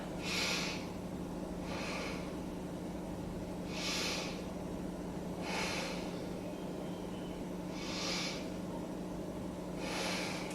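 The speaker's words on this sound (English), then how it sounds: "let's take 3 breaths here" Slow, deep breaths drawn during a beginner yoga stretch, six soft airy swells spaced about two seconds apart, close and quiet with no talking.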